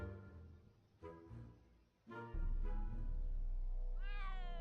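A pet cat named Ms. Pretty Whiskers meows repeatedly in Back to the Future: The Game, several drawn-out cries close up over a steady low game hum, with a rising wavering call at the end.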